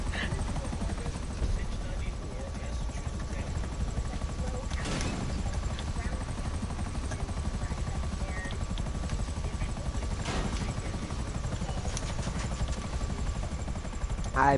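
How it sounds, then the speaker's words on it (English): A helicopter in a video game gives a steady, continuous rotor drone that runs loud and unbroken through the whole stretch, with a couple of brief whooshing swells along the way. "You trying to hit me with the helicopter?"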